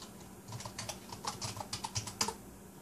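A command is typed on a computer keyboard as a quick run of close, crisp key clicks, ending in a firmer keystroke, with no talking.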